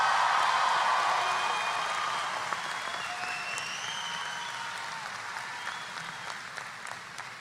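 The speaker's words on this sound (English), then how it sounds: "Give them a big round of applause" Large crowd applauding the graduating class of 2018 at a UMass Dartmouth undergraduate commencement, a broad sustained roar of clapping with whistles and cheers that slowly eases over seven seconds.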